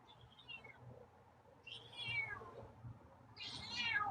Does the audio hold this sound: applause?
no